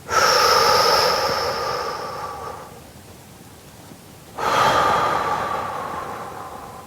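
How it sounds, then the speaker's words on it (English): Deep breaths during a guided meditation, a long, loud inhale close to the mic fading into a slow exhale, followed after a short pause by another full breath in. "Let's just take another deep breath."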